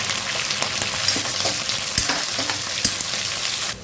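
Onion pieces frying in hot tempering oil with mustard, cumin and red chillies, a steady close sizzle with occasional stirring scrapes and soft clicks.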